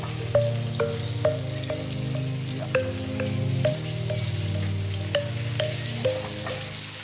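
A steak sears in a hot pan with a continuous close sizzle, joined by a low hum and periodic sharp taps every half second or so.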